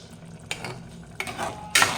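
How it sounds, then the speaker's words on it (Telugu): Yogurt spooned into a cooking pan with a few short scrapes and clinks of a utensil against the metal, close and fairly quiet, in three separate bursts. "ఇప్పుడైతే పెరుగు వేసుకోవాలి"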